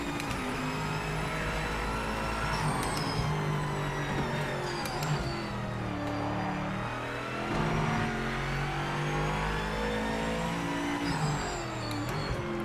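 GT3 race car engine in the Project Motor Racing sim, revving steadily with rising and falling pitch through gear changes and corners, loud and continuous with no talking.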